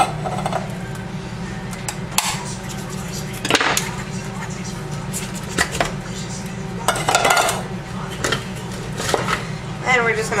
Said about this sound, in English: first thing we're going to pop into our casserole dish is going to be our refried beans